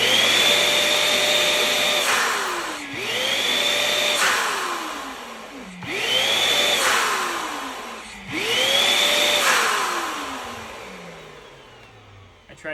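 A Mini Cool Air Pro electric balloon inflator blows air in four rising bursts of roughly two seconds each, its motor whine climbing in pitch at each start and then falling away, loud and close, with short gaps between.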